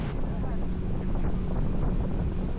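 Boat riding over waves on a Patagonia trip, a loud, continuous rumbling vibration with heavy wind buffeting across the whole stretch.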